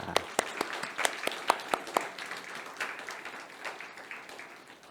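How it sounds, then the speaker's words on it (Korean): Congregation at an Easter Sunday service in a Korean church claps to welcome visitors, a few sharp distinct claps at first giving way to softer, thinning applause, fairly distant. "우리 박수로 환영하겠습니다"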